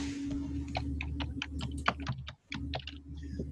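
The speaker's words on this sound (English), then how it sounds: "I can type in" Rapid keystrokes on a computer keyboard as a search term is typed in, a steady run of sharp clicks with one brief pause, heard close over a constant low hum.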